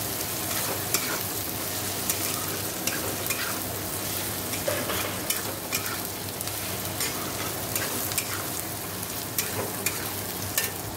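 Potatoes frying in a pan with cumin and Kashmiri chilli, a loud steady sizzle close up with repeated scraping clicks of a spatula stirring throughout.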